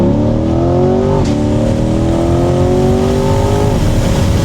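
A C8 Corvette with its top down accelerates hard in second gear after a downshift on a backroad. The engine note climbs loudly and continuously, with a brief dip at a gear change about a third of the way in.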